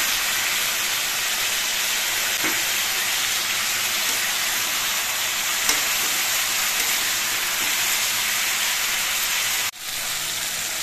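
Vegetables fry for bhola fish chorchori over a high gas flame with a loud, steady hiss and sizzle that holds unbroken for about ten seconds, then dips briefly near the end; nobody talks.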